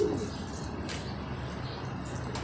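Soft cooing of homing pigeons at a loft repeats a few times over a low background rumble, with a light chirp or two mixed in.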